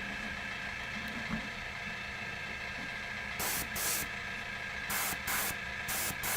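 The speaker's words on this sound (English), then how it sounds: "I'm using the airbrush to paint my wood chips because I'm lazy" An airbrush sprays paint onto wood chips for a Warhammer model base, heard as several short bursts of airy hiss over a steady background hum, close by, with no talk.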